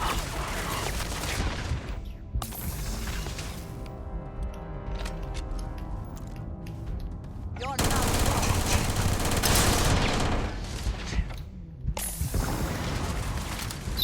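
Automated turrets in the video game Starfield open up in long rapid bursts of gunfire, loud and dense, with mechanical clatter and brief pauses between volleys.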